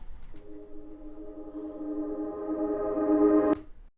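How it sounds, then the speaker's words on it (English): Reversed synth chords for pop drum programming, a sustained tonal chord swelling steadily louder over several seconds before cutting off abruptly with a sharp transient at the peak. "So this here is what I call a reverse synth effect."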